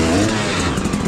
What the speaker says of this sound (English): 1, 2, get your revs up, feed the clutch, then weight your bike and then go.